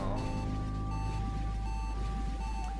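Low-health warning in the video game Axiom Verge 2: a steady, repeating electronic beep pulses every second or so over a dense bed of game music and effects.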